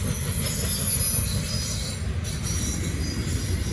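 Norfolk Southern freight train led by Dash 9 locomotives rolling past at speed, a steady loud rumble of wheels and railcars with faint wheel squeal, continuous throughout.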